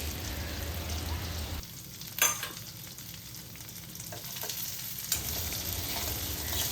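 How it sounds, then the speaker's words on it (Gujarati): Stuffed gunda (Indian cherry) with masala sautéing over a low gas flame, a soft continuous frying sizzle with stirring scrapes and a couple of sharper clicks, no voices. "સ્લો ગેસની ફ્લેમ પર 1 મિનિટ સુધી ગુંદાને સાંતળીને ત્યારબાદ તેમાં આજે આપણે મસાલો હતો બાફેલો તે પણ આ રીતે હાથેથી ક્રમ્બલ કરીને મિક્સ કરી દઈશું."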